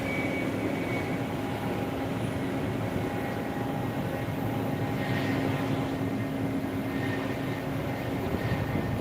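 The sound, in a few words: Air Arabia airplane taking off at Phuket airport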